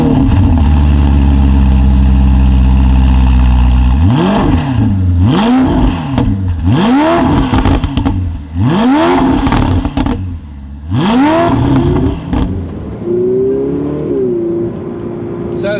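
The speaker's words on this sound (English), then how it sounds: "you hold your foot on the brake and you press the good old red button," Ferrari 488 Pista engine starts with a rumble and settles into a steady idle, then revs sharply again and again in rising and falling sweeps, loud and close, with the idle continuing between revs.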